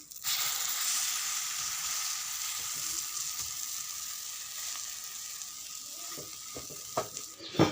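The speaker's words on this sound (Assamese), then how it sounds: "বৰা পিঠা বনাই আছোঁ পিঁয়াজ দি দিছোঁ" Bora pitha, rice fritters with onion, frying in hot oil: a steady close sizzle and crackle running throughout, with a few louder pops and clatters near the end.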